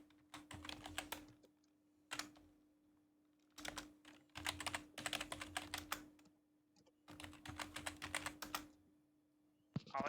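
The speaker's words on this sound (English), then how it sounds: "All I hear is just frantic typing. It's because you guys have fucking noisy keyboards." Frantic typing on noisy computer keyboards, with rapid clattering bursts of keystrokes that come in several clusters separated by short pauses, close and clear over a faint steady hum.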